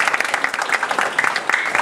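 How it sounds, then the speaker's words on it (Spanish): A church congregation claps loudly and fast, a dense, continuous burst of applause with no voices above it. "Denle un aplauso fuerte a Dios,"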